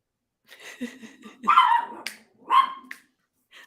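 Dogs barking indoors during a podcast conversation: a short series of close, loud yips and barks with a whimpering edge, coming in two or three bursts separated by brief pauses.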